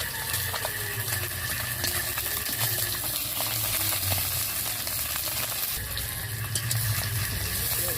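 Fish frying in hot oil in a wok, giving a steady close sizzle with scattered crackles and pops and occasional soft scraping, with no one speaking.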